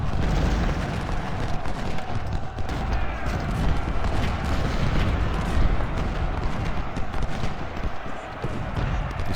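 Civil War artillery and musket fire in Ultimate General: Civil War during the Battle of Gettysburg rumbles as a dense, continuous battle din of booms and crackling shots, steady and moderately loud throughout.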